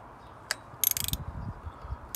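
Screws on a leaking carburettor are snugged up, giving a few sharp metallic clicks followed by a quick ratcheting burst of clicks, close and fairly faint, with no talk.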